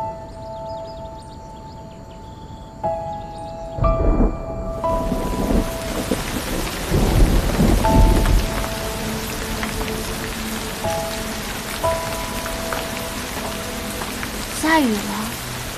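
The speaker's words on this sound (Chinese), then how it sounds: "忽然下起了雨。" Rain begins falling suddenly outdoors, a dense hiss of drops on surfaces that builds over several seconds, with a low rumble like thunder near the middle and tonal background music over it; dialogue briefly sounds during the downpour.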